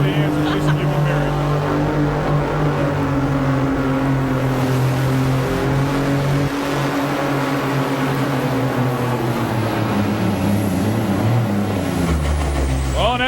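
A hot rod semi truck roars at a pulling event in Salem, Indiana, its engine droning loudly and steadily for the whole stretch while dragging the sled, with announcer talk running over it.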